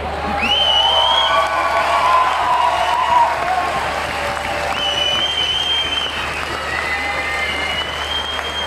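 Sustained applause from an audience at a club gathering of Eicher tractor enthusiasts, with whoops and cheering cutting through the steady clapping and a few voices calling out over it.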